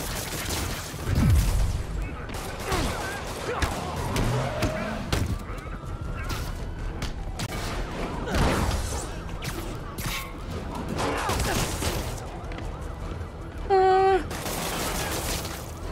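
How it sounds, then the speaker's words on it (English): Gunfire bursts in the Spider-Man video game crack through a busy mix of game effects and music, with sharp transients scattered across the clip and a louder burst near the end; a voice talks over parts of it. "Someone was shooting at me then."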